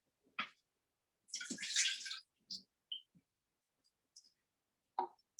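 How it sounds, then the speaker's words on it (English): Soaking water drained off medjool dates: a brief, quiet rush of pouring liquid surrounded by scattered faint clicks and drips in an otherwise silent kitchen. "We're not going to use this water, so I'm just going to drain it off really quickly"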